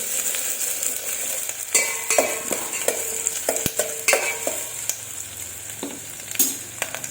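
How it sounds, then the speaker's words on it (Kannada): Capsicum fries in hot oil on a home stove with a continuous bright sizzle, while frequent stirring strokes and clinks of a utensil against the pan sound close by, with no voices. "ಇದು ಚೆನ್ನಾಗಿ ಫ್ರೈ ಆಗ್ತಾ ಐತಿ"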